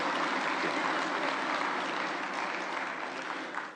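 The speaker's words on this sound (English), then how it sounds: "Can we give the Right Honourable Speaker a round of applause?" An audience in a parliament chamber applauds the Speaker, a dense, even round of clapping from many hands that holds steady and starts to thin toward the end, with no voices over it.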